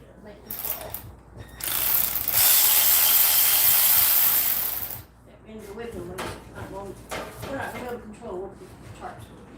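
A ratchet removes the screen from a Troy-Bilt tiller muffler, with a loud harsh burst of grinding followed by a run of quick, close mechanical clicks and clanks.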